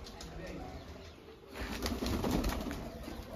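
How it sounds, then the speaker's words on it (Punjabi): Pigeons in a home loft coo softly and flap their wings, with a burst of wingbeats in the second half over a steady background hum. "ਆ ਗਏ ਬਾਈ ਕਬੂਤਰਾਂ ਕੋਲ, ਬੱਚੇ ਵੀ ਥੱਲੇ ਲਾ ਲਏ।"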